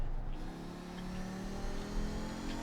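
Race car engine in the iRacing sim, an Audi 90 GTO or Nissan GTP-ZXT, droning steadily at moderate revs with a smooth rising pitch, heard faintly and alone.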